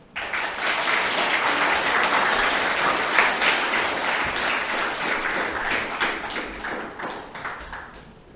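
An audience at a school presentation-day award ceremony applauds a winner, a steady, full burst of many hands clapping that starts abruptly, holds for several seconds and then tapers off.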